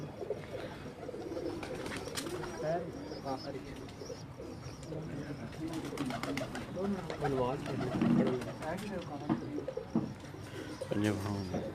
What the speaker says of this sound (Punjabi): ਉਸਦੇ ਘਰ ਦੇ ਫਰਾਂਸੀ ਕਬੂਤਰ ਹਨ।